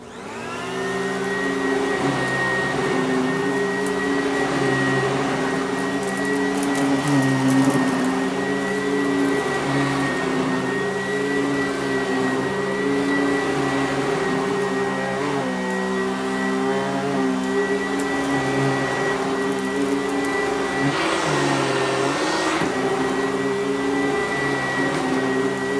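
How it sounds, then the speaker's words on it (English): Sanitaire SC899 upright vacuum cleaner with a new belt shaft running steadily, a loud continuous motor whine and hum with slight wavering throughout, close up with no talking. "I'm going to go ahead and give this Sanitaire a running here"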